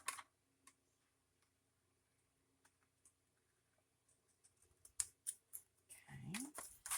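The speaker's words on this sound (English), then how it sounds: "I'm going to cut it just inside our fold line so that it's right at the edge" Scissors snip journal paper just inside the fold line, with a few isolated clicks early on and then a quick cluster of close, crisp cuts and paper rustle at the end.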